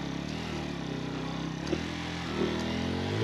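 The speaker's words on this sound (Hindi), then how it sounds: "वो छोटी बाइक है, छोटी बाइक है।" A small motorcycle rides off-road on a mountain track near Skardu, its engine holding a steady buzzing drone with a couple of brief rises in pitch, fairly faint and continuous with no talking.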